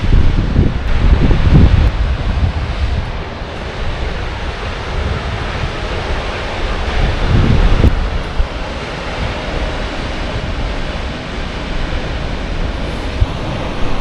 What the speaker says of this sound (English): That water's really shooting out of there.